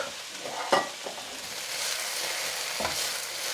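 Chicken and vegetables stir-fry in a pan with a steady, close sizzle, broken by a few sharp scrapes and clatters as the food is stirred and tossed.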